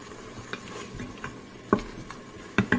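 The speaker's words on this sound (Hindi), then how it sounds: "थोड़ा सा मिक्स कर लीजिए।" Keema stirred in an Instant Pot, with soft scraping and a few sharp clinks of a spoon against the metal insert, quiet and intermittent over a faint sizzle.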